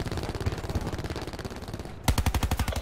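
Rapid automatic gunfire from a weapon with attachments in the shooter game Frequency, a steady dense burst that pauses briefly, then resumes louder and closer with sharp, evenly spaced shots.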